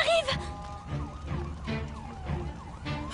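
A fire engine siren wails in repeated rising and falling sweeps over a low engine rumble, moderately loud and fairly near, with no talk.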